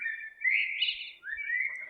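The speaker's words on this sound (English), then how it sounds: "The blackbird flies away the second I fling the door open, of course." A single bird, a blackbird, gives a clear, close, sliding whistled call lasting nearly two seconds with a brief dip in the middle, heard alone against silence.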